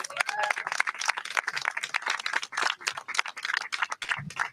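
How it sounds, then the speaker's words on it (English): Applause from a gathered audience at a public event honoring a local family business, many hands clapping in a steady, moderately distant patter that keeps going, with a few faint voices in the crowd. "Jill, give her a big round of applause."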